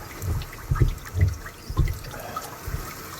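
Water sputtering and splashing from a broken kitchen faucet that has blown apart, with irregular gushing bursts repeating every half second or so, fairly close and unbroken by talk.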